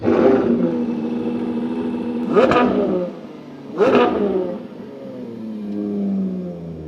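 A Lamborghini Aventador engine rumbles, then blips twice in sharp, loud revs before settling back to a deep idle burble, heard up close.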